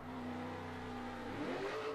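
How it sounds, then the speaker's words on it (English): A muscle car in the Forza 7 racing game revs hard in first gear, a loud, sustained engine drone that holds steady and then climbs in pitch near the end, with no talk over it. "I effectively just revved the nuts off first gear"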